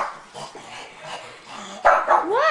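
Two small pug dogs bark and yip at monkeys with rising whiny cries, close by, growing louder toward the end.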